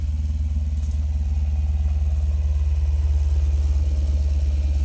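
A Jeep Grand Cherokee Limited 4x4 with a 5.7 Hemi V8 idles steadily with the hood open after a start. Its deep, even rumble is heard up close throughout, with a light mechanical clatter and no voices.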